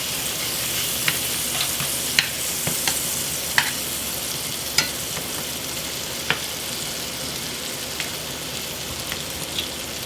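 Peach halves searing on a hot grill give a steady, close sizzle with occasional sharp pops and crackles throughout, without talk.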